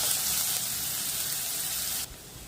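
Onions sauté in hot groundnut oil with cumin and fennel seeds for a pepper chicken gravy, a loud, steady sizzling hiss that drops abruptly to a softer sizzle near the end.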